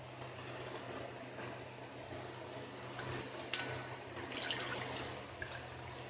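Water swishes and trickles steadily as quinoa grains are rinsed by hand, with a few soft splashes and drips near the middle and end. It stays fairly quiet and close throughout, with no voices.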